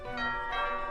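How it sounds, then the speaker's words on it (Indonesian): In the film Don't Go Too Far, a doorbell rings with two bright, ringing chime tones in quick succession, clear and fairly loud against a quiet background. "Tiba-tiba bel pintu berbunyi."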